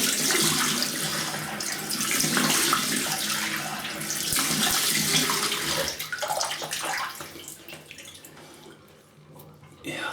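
Tap water runs and splashes over hands and face in a rinse after traditional wet shaving, a close, uneven gush that eases toward the end, with a voice speaking over it at times.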